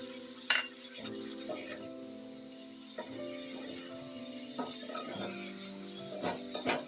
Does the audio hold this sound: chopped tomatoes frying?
yes